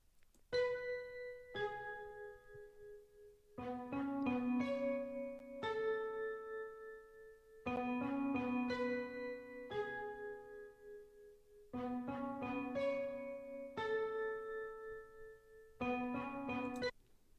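A layered neo soul sample of spiccato strings, grand piano and vibraphone plays alone in short repeating chord phrases, with quick plucked and struck notes clustering in bursts, ringing tones sustaining between them, at a moderate, soft level.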